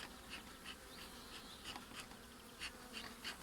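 Bees in a full hive box buzz as a dense, even hum, close and quiet, with individual wingbeats swelling in and out, without talk.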